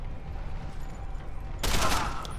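Loud weapon gunfire from the video game Deus Ex: Human Revolution bursts out briefly after a stretch of low game ambience, a short harsh blast near the end with no talk over it.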